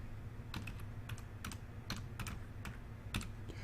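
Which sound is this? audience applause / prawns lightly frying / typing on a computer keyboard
typing on a computer keyboard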